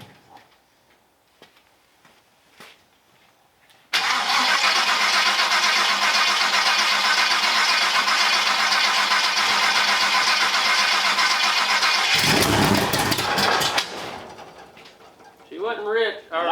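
A 1967 Chevrolet C10 pickup engine cranks and catches after sitting for decades, roaring into a loud, steady idle for about ten seconds before a brief rev and cutting back, with birds and faint voices around it.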